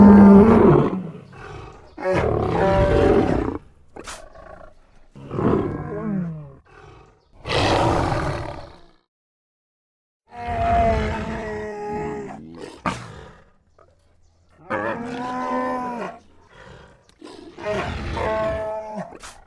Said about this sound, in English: That is our Chewbacca.